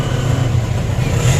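Engine of a motorized tricycle: a loud, close, steady low chug with a rough idle rumble throughout the brief moment, no voices.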